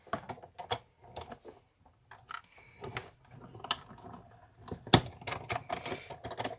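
A Big Shot die-cutting machine cranks a rectangular Framelits die through with a run of ratcheting gear clicks and creaks, close and fairly quiet, and one sharper snap near the end.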